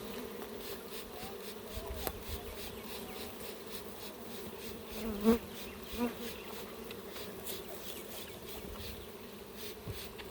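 Honeybees in a shipping package with a mated queen buzz continuously in a dense, steady drone, moderately close, with a few soft bumps and knocks and no talking.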